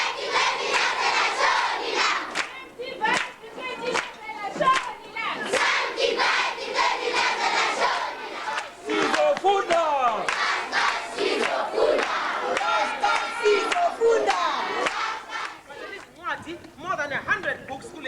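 A crowd of people at an outdoor literacy roadshow gathering sing a song together, loud and lively throughout, with voices overlapping and occasional shouts mixed in.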